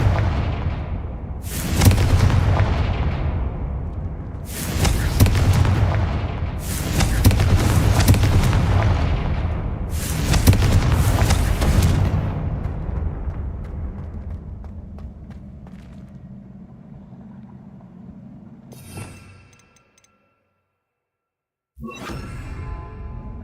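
Four heavy booming fire-blast spell explosions from Hogwarts Legacy, each a loud broadband burst about two to three seconds apart, then a fading rumble, a sudden cut to silence and a final burst.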